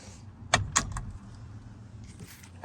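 Keys jangle in a few short metallic bursts near the start, up close while a 1987 Chevy C20 pickup door is locked, followed by quieter handling and a faint click at the end.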